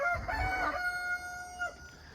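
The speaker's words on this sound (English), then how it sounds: "Calling the world, letting everybody know he's a rooster." A rooster crows once in the distance, a faint drawn-out cock-a-doodle-doo over quiet background noise.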